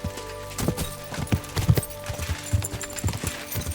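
Horse hooves gallop across the ground in the medieval video game Kingdom Come: Deliverance II, a rapid, uneven run of close, thudding beats over a quiet ambient background.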